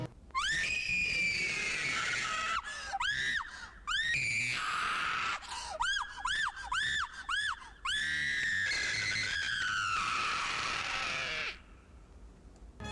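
A woman screams over and over in the trailer for the 1984 comedy horror film Bloodsuckers from Outer Space, loud, high-pitched and shrill, with long wails broken by short gasping bursts.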